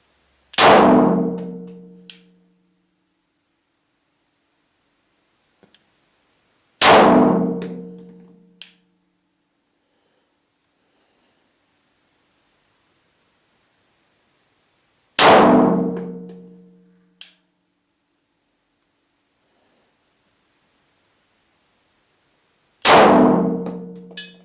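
Four loud, sharp Glock pistol shots, each spaced several seconds apart, with a ringing decay and a faint metallic clang from the hit target just after every shot.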